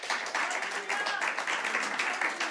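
A church congregation applauds, a dense wash of clapping that stays steady throughout at moderate loudness.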